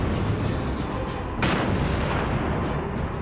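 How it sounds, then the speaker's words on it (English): A single heavy tank cannon blast booms out midway, sharp and loud over constant roaring rumble and noise. "We take the shell, we put it in the cannon, we aim, and we fire."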